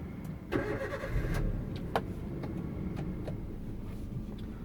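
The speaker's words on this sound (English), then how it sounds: "To start the car, press the clutch all the way in with your left foot and turn on the car." A manual-transmission car engine cranks and catches, a brief starter whir followed by a steady idle rumble, close by with no talk.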